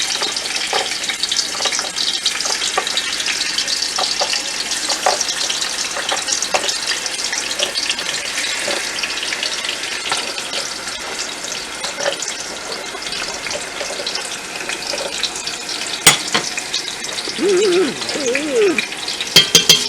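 Onions fry in a pot for Guyanese hassar curry, giving a steady, close, broadband sizzle that runs unbroken, with a few soft clinks and stirring noises near the end.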